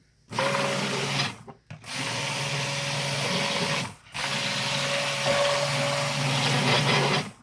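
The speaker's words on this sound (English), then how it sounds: "Oh, this is hard to hang on to, this blender." A hand blender mixing hot process soap whirs loudly in sustained bursts, stopping briefly twice before starting up again, with a steady motor hum.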